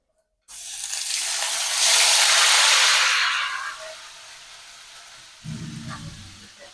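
Ground paste of dried chilli, ginger, garlic and onion hits a hot pan with a loud, bright sizzle that swells, peaks, then slowly fades, followed by a brief low rumble of stirring near the end.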